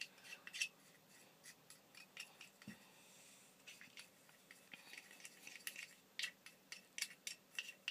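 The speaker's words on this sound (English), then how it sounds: "And stir that." Stirring powdered crested gecko diet into a watery mix in a dish, a quiet series of close scraping, clicking utensil strokes against the dish in an irregular rhythm.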